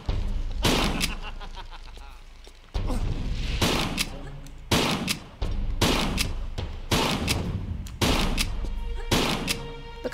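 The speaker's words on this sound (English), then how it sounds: "So I am going to use the shotgun, I think." Shotgun blasts in Tomb Raider 3, in the Caves of Kaliya level, fired one at a time at a steady pace of roughly one each second. Each loud, booming report fades into a short echoing tail, and a voice talks in between.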